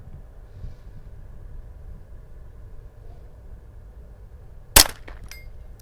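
A single sharp crack from a Derya Arms TM22 .22 LR rifle fired at a small, distant target rings out once, close and loud, over a steady low outdoor rumble.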